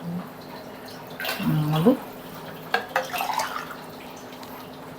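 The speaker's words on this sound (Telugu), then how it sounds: "ఇలా వాటర్ వేసేసుకోవాలండి." Water is poured into a cooking pot for pongal, a brief splashing gush near the start followed by lighter trickles and clinks, with a voice speaking briefly.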